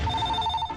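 A telephone rings in a movie scene, a single short electronic trill with a steady bright tone, fairly quiet and alone.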